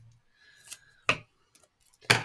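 Two crisp scissor snips, one near the middle and one at the end, with a faint rustle of paper between them in an otherwise quiet room.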